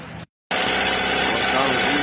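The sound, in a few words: Chevrolet Lacetti 1.8 engine running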